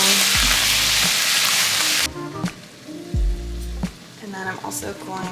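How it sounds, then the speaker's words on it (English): Onions tossed with coconut aminos in a hot pan, a loud sizzle that drops off after a couple of seconds, followed by clinks and stirring with quieter crackling underneath. "Toss the coconut aminos with the onions here and let those cook down."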